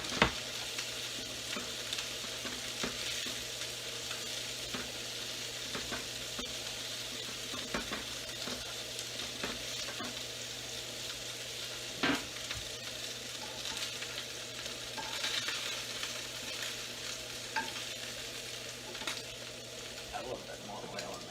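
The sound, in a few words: beans added to a hot pan, frying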